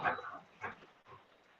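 Dogs just back from a walk make a few short, soft barks and whimpering noises nearby, in quiet bursts with pauses between them.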